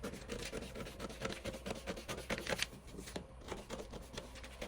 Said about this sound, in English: Take your paper scissors, then you cut out following the lines.